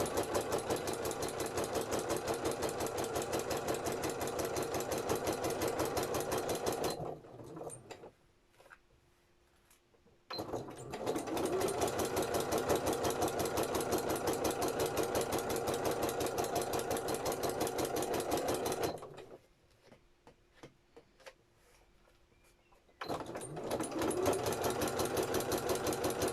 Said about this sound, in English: I'm just going to carefully top stitch now.